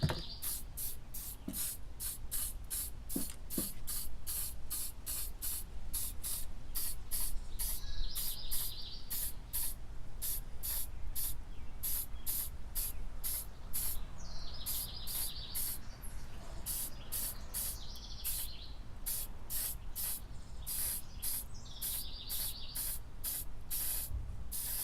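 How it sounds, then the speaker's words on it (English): Black spray paint hisses from a can onto carved scrap wood in a long run of short bursts, close and fairly loud, with a steady low hum underneath and occasional brief chirps. "so I'll spray one down real quick"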